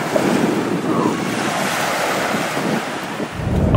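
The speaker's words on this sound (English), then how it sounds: "There's Amy enjoying the sand and surf" Ocean surf rolling onto an island beach in Belize, a steady loud wash of breaking waves mixed with strong wind buffeting the microphone, no voices.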